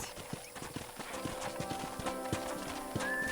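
Steady clip-clop of horse hooves trotting in Red Dead Redemption, a quick rhythmic patter of hoofbeats close by, with a faint tone near the end.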